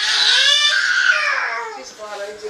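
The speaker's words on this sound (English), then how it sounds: "Don't ask me why she's screaming." A baby girl screams and cries at close range indoors, a loud high-pitched wail that trails off into whimpering sobs.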